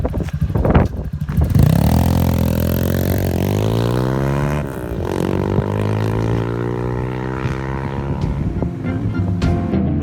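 A Lifan CitiR 200 motorcycle riding by, its single-cylinder engine revving and rising in pitch through the gears as it passes close, loud and continuous with no talking.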